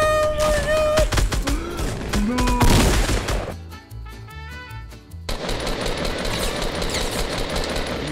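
Fortnite gunfire rattles in rapid bursts, close and loud, partly over tonal game sounds and then over a steady mechanical clatter, while players talk excitedly.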